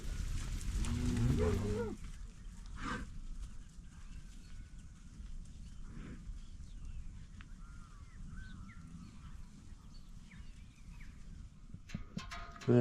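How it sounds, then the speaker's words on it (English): Cattle from a mob of cows in a winter paddock low loudly nearby at the start, then further moos and calls come from farther off over a steady outdoor rural background. "So this is the second mob of cows."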